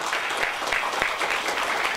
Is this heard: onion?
no